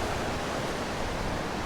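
Ocean waves washing onto the beach at Ocean City, Maryland, a steady, unbroken roar of surf that fills the whole short stretch with no voices.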